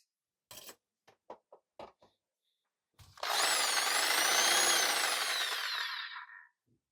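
A few light taps and knocks are followed by a jigsaw cutting material for a DIY filtered fume extractor fan, a loud, steady, close buzzing cut of about three seconds that then stops.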